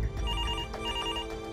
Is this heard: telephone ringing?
yes